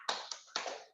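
Three sharp hand claps in an uneven rhythm, the last one ringing out a little longer, performed as part of a children's anti-drug clap chant called 'tepuk narkotika'. The claps are close and fairly soft, with no talking over them.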